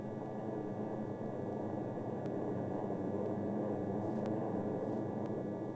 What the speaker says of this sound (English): the planes turned off target to head home